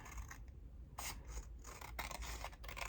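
Scissors cutting fabric for pockets, several crisp close snips and rasping slides of the blades through cloth in a quiet room.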